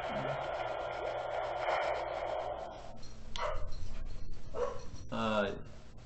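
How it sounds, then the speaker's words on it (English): Dogs bark and yip in short excited bursts, fairly close, with a voice talking at the start before the barking takes over. "You can hear my dogs getting a little excited."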